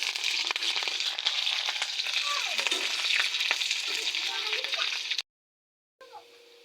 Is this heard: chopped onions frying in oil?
yes